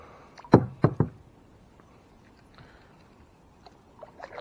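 A kayak paddle dipping and pulling through lily-pad water, three quick close splashy knocks in a row, followed by quiet with a few faint drips and bumps.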